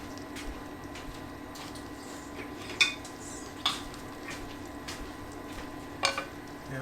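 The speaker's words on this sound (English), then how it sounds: "So we're going to mix this all around real good as soon as I get a spoon." A spoon clinks against a bowl in a kitchen while a mixture is stirred, giving a few sharp scattered taps over a low steady background hum.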